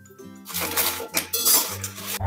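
Green chillies sizzle and crackle in an oiled kadhai over a high flame, bursts of spitting hiss punctuated by metallic clinks of the pan, loud and close for a couple of seconds.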